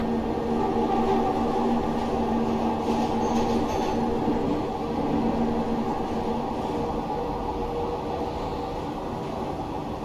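A Glasgow Subway train on the Outer Loop between Govan and Ibrox in Train Simulator Classic runs steadily with a continuous rumbling roar, wheel hum and faint squeal, alone and without talk.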